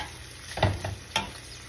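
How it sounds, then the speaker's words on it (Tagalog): Creamy cheese corn is stirred in a pan, a few quick scraping strokes with light sizzling under them, close and brief. "Haluin po natin siya."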